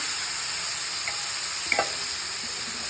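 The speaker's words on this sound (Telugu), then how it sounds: "ఆవాలు అన్నీ వేసి తిరమాత పెట్టుకున్నాక ఇవి కొంచెం ఫ్రై అయ్యాక ముందుగా కలిపి పెట్టుకున్న చింతపండు రసాన్ని వేసేసుకోవాలి" A mustard seed tempering frying in oil, with tamarind juice poured in, makes a continuous close sizzle with a couple of small pops and stirring sounds.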